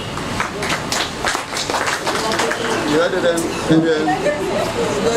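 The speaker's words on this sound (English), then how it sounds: "May I very quickly humbly appeal that we give this Leo a round of applause for the work." An audience at a regional handover ceremony gives a round of applause, a dense, fairly loud wash of clapping that runs the whole time, with voices talking over it.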